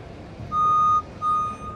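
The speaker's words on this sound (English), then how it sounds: "The machine will beep three times," Two clear electronic beeps from a JLG scissor lift connecting to a phone, the first longer than the second, over a low background hum.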